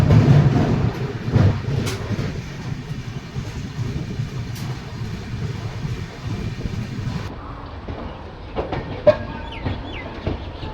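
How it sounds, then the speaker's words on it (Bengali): Uttarbanga Express creeping slowly around a curve towards Sealdah, a steady low rumble and rolling noise with occasional clicks, with a rooster or hens clucking faintly nearby. "ট্রেন সুন্দর একটা কার্ভ নিয়ে ধীরে ধীরে শিয়ালদার দিকে এগোচ্ছে"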